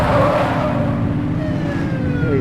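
A police car in The Precinct video game drives with its siren on. A heavy, loud engine rumble dominates, and thin wailing siren tones sweep faintly above it.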